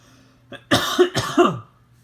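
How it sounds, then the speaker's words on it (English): A person coughs several times in quick succession, close and fairly loud, over a faint steady hum, with no speech. "Sorry about the coughing again."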